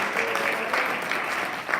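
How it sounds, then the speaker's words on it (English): An audience at a summit breaks into a brief, full round of applause, a dense steady clatter of many hands clapping without pause. "let's give a big round of applause to Sammy for getting this whole thing together"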